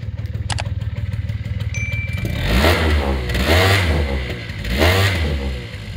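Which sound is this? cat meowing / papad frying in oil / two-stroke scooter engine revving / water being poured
two-stroke scooter engine revving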